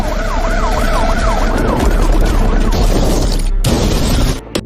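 Ambulance siren wailing loud and close in a rising-falling pattern amid traffic noise, cutting off abruptly near the end.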